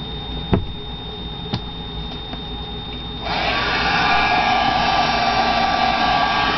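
A hair dryer switches on partway through to dry a fresh coat of paint on a rock paper weight, starting with a steady close whoosh after a few faint taps and continuing alone at constant loudness.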